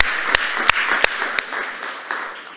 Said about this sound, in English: Big applause. Come on, let's warm the stage.